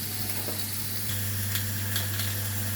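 A dry aged rib eye steak sears and smokes in a hot pan, making a steady dense sizzle that fills the whole stretch with a low constant hum beneath, close and unbroken, with no talking.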